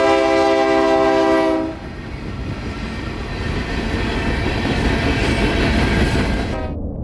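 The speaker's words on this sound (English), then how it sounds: "the two ES40 DCs were barreling down on us" A train on the Palmetto Subdivision, led by two ES40DC locomotives, sounds a loud sustained horn blast up close, followed by the heavy rumble and clatter of cars rolling steadily past.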